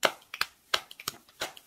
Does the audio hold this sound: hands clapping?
yes